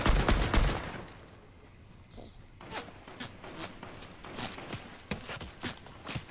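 Fortnite gunfire: a loud burst of rapid shots at the start, then scattered single shots and sharp cracks at mid distance with faint background game noise.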